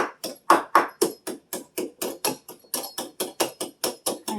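Frost inside a freezer being chiseled away with a tool: a steady series of about sixteen sharp, close knocks and scrapes, evenly spaced, with no voices.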